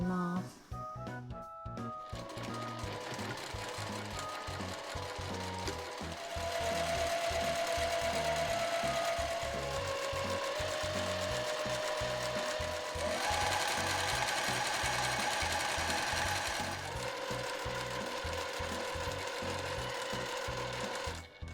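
A sewing machine stitches a light gauze bolero shawl, running in long steady bursts with brief pauses between seams, its motor drone and rapid needle rhythm close and continuous, with no talking.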